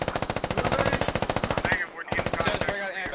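Rapid automatic gunfire in a British-versus-Russian online military shooter game, sustained bursts of loud rhythmic shots with a short pause near the end before firing resumes.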